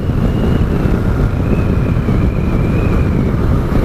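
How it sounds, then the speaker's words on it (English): A Triumph Tiger Sport 1050cc motorcycle rides along in sixth gear. Its engine drone is loud and steady, half buried under heavy rushing wind noise on the microphone, and nobody talks. "6th gear, let's see how she goes."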